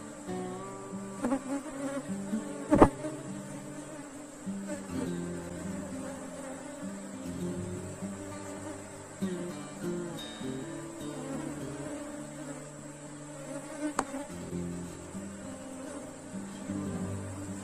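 Africanized honey bees drone steadily around an opened hive during a colony split, a continuous close buzz with a few sharper knocks and handling noises.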